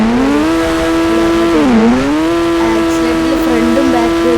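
A car in a GTA V video game doing a burnout, with a loud continuous engine drone that dips briefly and then climbs again as the revs rise, steady and close.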